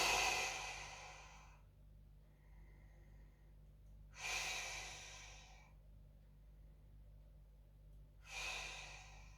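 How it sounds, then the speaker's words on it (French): Three slow, deep breaths taken lying down during a yoga routine with hands on the solar plexus, each a long airy exhale spaced evenly apart, close and soft against quiet room hum. "mes 2 mains sur le plexus, 3 respirations."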